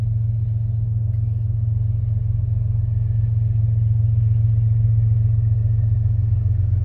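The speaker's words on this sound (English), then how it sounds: "Another two engines, and you can hear them." Freight train locomotives rumble past nearby on a CSX line, a heavy, steady low diesel drone of engines hauling weight that continues without break and with no talk.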